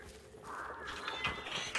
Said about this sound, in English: Oh, hold on, crows.